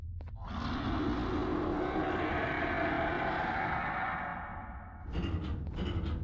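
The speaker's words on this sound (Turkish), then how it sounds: "Sanki yukarı doğru tırmanıyor gibi bir ses var." A sustained rumbling, scraping climb sound from the video game Garten of Banban Chapter 3 swells for about four seconds, fades, then gives way to a few sharp knocks at the end, with no talking.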